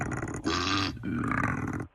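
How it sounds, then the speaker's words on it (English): A koala barking at an intruder, deep, rough guttural bellows, two harsh grunting bursts in quick succession, close and loud. "So this is a koala bear barking at an intruder."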